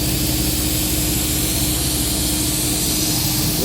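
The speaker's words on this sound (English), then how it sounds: "Facing passes first. Very low depth on the facing passes." Rong Fu CNC mill making shallow facing passes on a delrin workpiece, a steady, continuous machining drone and hiss with a low motor hum, close and unbroken throughout.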